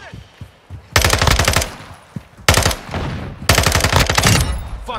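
Call of Duty video game gunfire: three loud bursts of rapid automatic fire, each lasting about half a second to over a second, separated by quieter gaps with scattered single shots.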